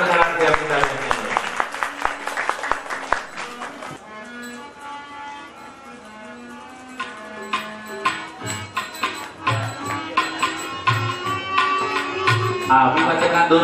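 An audience at a religious Ram Katha gathering claps together in honour of Amitaben Trivedi, steady applause rising and falling, with a voice speaking over parts of it.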